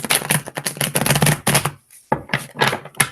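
Tarot cards being shuffled by hand in quick bursts of riffling and slapping, close and crisp, with brief pauses between bursts and no talk.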